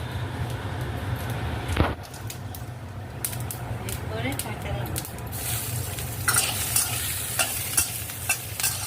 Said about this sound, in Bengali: তেল গরম করে তাতে পাঁচ ফোড়ন দিলে